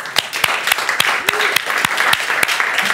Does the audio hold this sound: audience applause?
yes